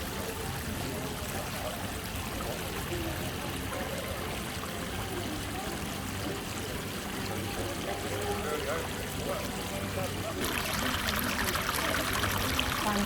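A small waterfall in Coventry town centre splashes and rushes steadily, a dense continuous wash of water close by that swells slightly louder near the end.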